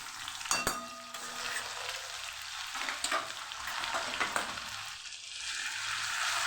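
Ginger-garlic paste, green chilies and curry leaves sizzle and crackle steadily in hot oil, with a sharp spatter near the start and light stirring throughout; no voices.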